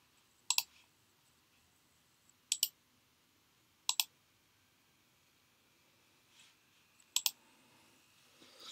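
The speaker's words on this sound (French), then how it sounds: "je tape le mot de passe." A password typed on a computer keyboard during a software install: four or five sparse, sharp double clicks a second or so apart, close and isolated against a quiet background.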